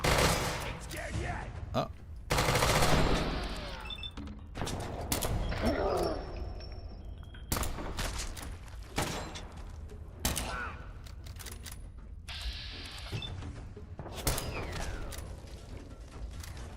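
Gunfire and creaking mechanical clatter from Fallout 4 play in irregular bursts of shots and sharp impacts, with a brief exclamation from a player between them.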